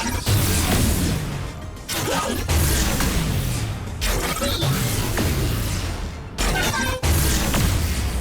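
Project Jinx's Super Mega Death Rocket explosions in League of Legends: repeated loud blasts and crashing bursts with whooshing tails, several heavy impacts separated by brief gaps.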